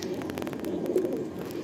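A pigeon coos at a pigeon sale in Park Circus, Kolkata, giving soft, low, throaty coos near the bird against faint background noise.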